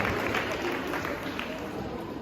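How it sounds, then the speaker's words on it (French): Audience applause for parents at a mayor's speech in Grigny, a steady, even wash of clapping that fills the short stretch without pause. "vous pouvez applaudir nos parents, nos mamans et nos papas"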